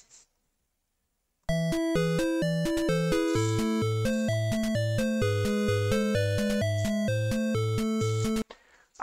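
Chiptune harmonies play back from the FamiStudio tracker: bright, buzzy square-wave melody lines over a steady pulsing bass. The music starts after about a second and a half of silence and keeps a loud, even level for roughly seven seconds before stopping abruptly.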